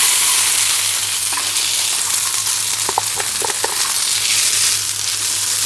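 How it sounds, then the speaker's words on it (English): Chopped onion fries loudly in hot grease on a Firedisc, giving a constant close sizzle with a few soft knocks from a wooden paddle stirring partway through. "So the first thing we're gonna do is we're gonna cook our onions."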